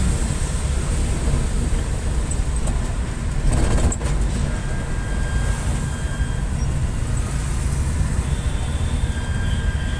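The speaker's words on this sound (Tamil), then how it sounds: "ரயில் சத்தமே உங்களுக்கு கேட்டிருக்கோம்." Steady low rumble of a train rolling through Guindy railway station in Chennai, continuous and fairly loud, with faint high squeals and a brief metallic clatter near the middle.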